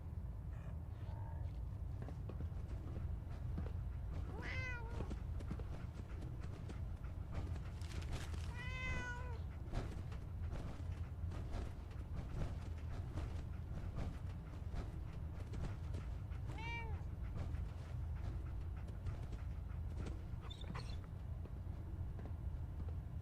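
A cat in modded Fallout 4 meows several times at intervals, with short wavering cries standing out over continuous low game ambience and music.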